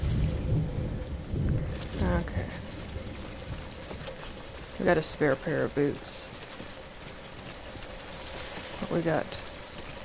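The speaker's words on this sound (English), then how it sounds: "Now we're in rain." Steady rain with rolling thunder in the video game Death Stranding, a few loud crackling thunder bursts breaking through the downpour while someone talks over it.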